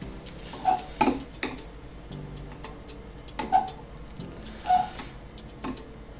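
A spoon stirs hibiscus tea in just-boiled water inside a cup, giving a few bright clinks against the sides at irregular intervals with quiet moments between, and no voices.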